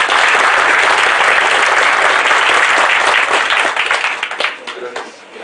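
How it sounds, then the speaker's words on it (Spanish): Loud, dense audience applause fills a conference hall welcoming a speaker, sustained steadily before tapering off toward the end. "les pido para recibirlo un fuerte aplauso"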